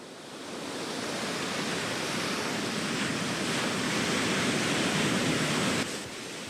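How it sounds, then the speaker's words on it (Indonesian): A storm in Spain brings heavy rain, strong wind up to 100 km per hour and waves on the Granada coast, heard as a loud, steady roar of surf and wind that builds and then drops slightly near the end. "Badai Christine membawa hujan lebat dan angin kencang hingga 100 km per jam di sejumlah wilayah di Spanyol"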